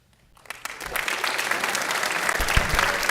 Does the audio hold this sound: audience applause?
yes